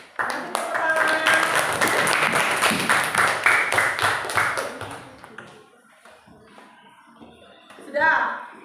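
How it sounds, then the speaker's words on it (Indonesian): A class of students claps during a teaching-practice lesson, a burst of mixed clapping lasting several seconds before dying away, with a teacher's and children's voices around it and quieter talk afterward. "Kasih tepuk tangan"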